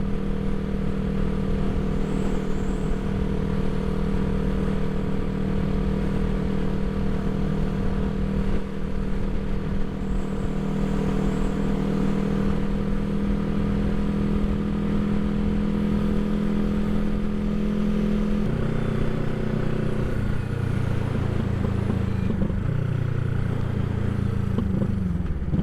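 Engine of a 1975 Honda CB360T motorcycle running steadily and loud throughout, a continuous idle drone with occasional pops, shifting in pitch near the end as the revs change.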